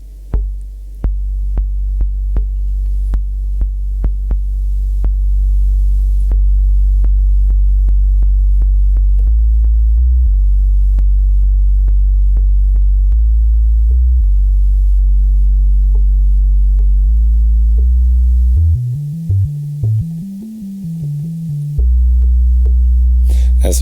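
A deep, heavily sustained sample played on an MPC with a hard attack and long release throbs loudly in low bass tones, shifting pitch in steps and wobbling near the end, with no talk.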